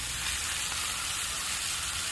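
Ribeye steaks searing in a hot pan give a steady, dense sizzle and crackle, loud and close, running evenly from start to finish with no voices.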